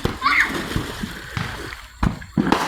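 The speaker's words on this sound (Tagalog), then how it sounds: "Ito po yung swimming pool. Maraming nagliligo." People swimming in an outdoor pool, brief splashes and sloshes of water close by, with scattered voices of adults and children around them.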